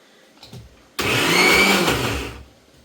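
A mixer grinder powders dried fish in a short burst of about a second and a half, starting abruptly with a loud whirring roar and then winding down. Faint handling noises come before it.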